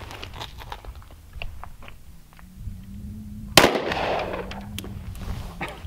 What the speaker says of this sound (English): Richard, you want to shoot this one here?